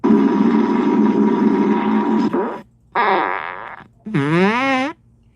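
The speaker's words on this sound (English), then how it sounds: "Yeah, the B-52 fart." A long, loud droning fart sound effect likened to a B-52 bomber in flight, followed by two shorter rasping bursts, the last rising and wavering in pitch.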